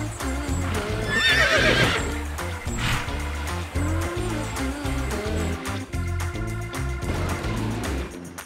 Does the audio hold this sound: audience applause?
no